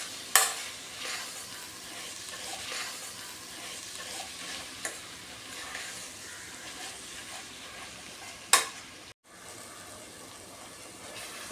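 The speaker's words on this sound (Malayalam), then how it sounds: "ഇട്ട് തക്കാളി നല്ലപോലെ വെന്തുടയുന്നത് വരെ വഴറ്റണം." Chopped tomatoes sautéing in a pan for mutton kurma, a steady close sizzle with scraping stirs and a few sharp utensil knocks, nearly alone throughout before a brief dropout near the end.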